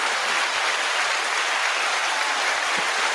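Crowd applause celebrating an LSU win in the NCAA basketball championship, a dense, steady wash of clapping that stays even and continuous throughout, with no talking.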